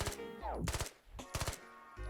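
Two quick bursts of rapid rifle fire in the video game Squad, close and punchy, separated by a short pause.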